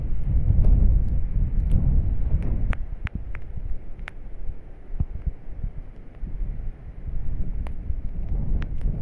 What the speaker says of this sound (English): Oh, the wind though